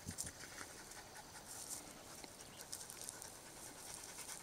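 Norwegian Elkhound dogs pant steadily on a hot mountain hike, with quick, breathy rhythmic panting close by and a faint outdoor background.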